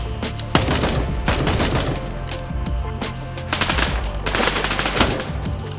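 Automatic gunfire in the military shooter game Gray Zone Warfare, loud rapid bursts of rifle fire with brief pauses between volleys.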